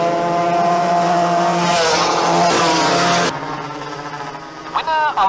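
Junior go-kart racers from 1964 roar loudly past in a dense, buzzing engine drone that swells mid-clip, then eases to a lower hum with a brief rising whine near the end.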